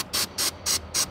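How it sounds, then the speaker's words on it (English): An aerosol can of white lithium grease hisses in four short, evenly spaced bursts onto a 1956 Volkswagen Beetle pedal assembly, close and fairly soft. "this spray-on white lithium grease that I'm gonna use for the pedal assembly"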